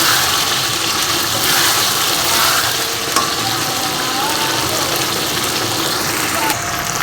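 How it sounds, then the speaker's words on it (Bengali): Fried potatoes being sautéed in spiced oil for a vegetarian soybean curry give a continuous loud sizzle with stirring scrapes, steady and close throughout, with a brief clatter near the end. "ভেজে রাখা আলুগুলো দিয়ে ভালো করে কষিয়ে নেব"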